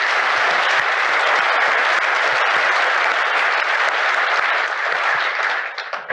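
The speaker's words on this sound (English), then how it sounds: "can we please give a big round of applause to the guest panel?" A keynote audience gives a dense, sustained round of applause to a guest panel at a design and technology event. The loud, even clapping fills the room and thins slightly right at the end.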